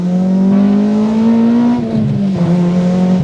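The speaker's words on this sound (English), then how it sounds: "Oh, that engine is just sensational." A car engine revs hard and steadily, a loud harmonic drone that dips briefly as it shifts, then climbs again, close and continuous.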